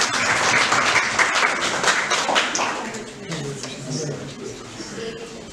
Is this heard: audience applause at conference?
yes